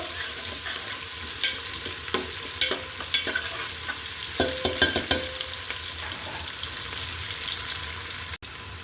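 Onions frying in a pan until light brown for morog polao, a soft continuous sizzle with scattered sharp spatula taps and scrapes clustered in the middle, then a sudden cut near the end.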